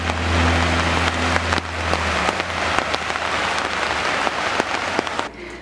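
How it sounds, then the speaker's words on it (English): Heavy rain pours steadily in Southern California, a dense, close hiss of drops drumming on surfaces throughout, with a low rumble that drops away partway through and a sudden quieting near the end. "But the rain in Southern California right now is just craziness."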